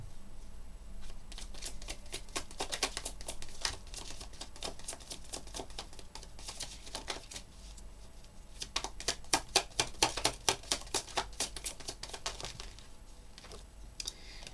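Tarot cards are shuffled and laid out on a table, producing a steady, close run of dry riffling clicks and flicks that grows busier toward the end, with no voice.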